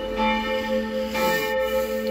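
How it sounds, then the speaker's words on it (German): Church bells of Stadtlauringen in Lower Franconia ring steadily with sustained, overlapping tones, heard clearly outdoors at moderate distance with no talking. "das sind die Glocken von Stadt Lauingen"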